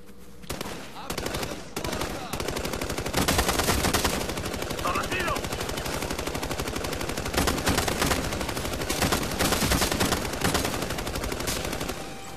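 Light machine gun fire in the Ghost Recon Future Soldier video game: sustained rapid bursts of automatic gunfire that run almost continuously, loud and close, with a voice shouting in Spanish over the shooting.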